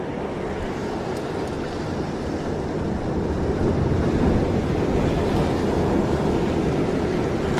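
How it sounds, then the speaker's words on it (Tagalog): Strong ocean waves during a bluefin trevally fishing trip, a broad continuous rushing roar of surf mixed with wind buffeting, growing slightly louder partway through, with no talking. "Ay, may malakas na alon."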